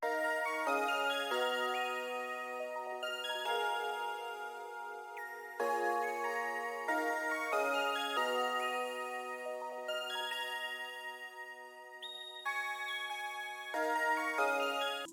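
A beat loop built from free VST synths in FL Studio, with bright, plucky synth notes in a repeating melodic pattern, played alone at moderate level.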